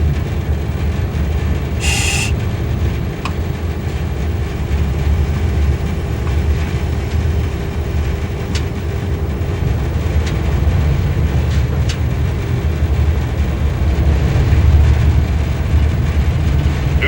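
A heavy loaded ore train rumbles steadily along the rails, a low continuous roar with faint metallic squeals and clanks, no voices.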